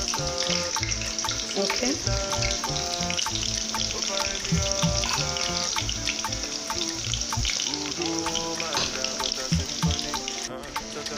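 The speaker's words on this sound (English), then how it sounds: "In goes my onions. I'm gonna let this fry a bit." Onions fry in a pan for a Northern Nigerian dish, giving a steady, dense sizzle that runs loud and unbroken throughout, with one brief spoken word.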